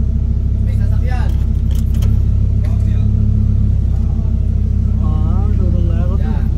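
A Lamborghini engine holds a deep, steady rumble while the car reverses, loud and constant throughout, with people talking over it.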